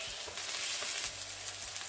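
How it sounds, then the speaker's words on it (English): Green capsicum and onions sizzling steadily in a hot pan, a soft continuous hiss with small crackles and a brief stir, fairly quiet and without any talking. "So at this point, I'm going to be adding my capsicum. So this is green capsicum."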